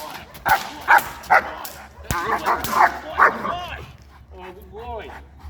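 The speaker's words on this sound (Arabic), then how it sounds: "هتسمعوا في الفيديو كده صوت كلب بلدي" A baladi Egyptian street dog barks in several sharp, close yips and bow-wows, with whimpering calls mixed among them and people talking in the background.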